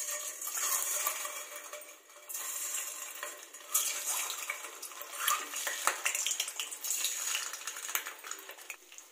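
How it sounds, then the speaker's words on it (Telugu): Eggs fry in hot oil in a thick kadai, a steady close sizzle and crackle broken by light metallic scrapes and clinks of a utensil against the pan. "4 టేబుల్ స్పూన్ల నూనె కూడా తీసుకొని ఎగ్స్ ని ఆయిల్ ఫ్రై చేసుకోవాలి।"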